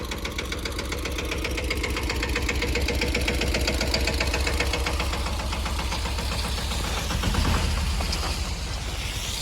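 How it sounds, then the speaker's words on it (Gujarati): A tractor engine runs steadily throughout, with a loud, close, rhythmic knocking idle and no talk. "ભરતભાઈ ટ્રેક્ટર રાખી દીધું"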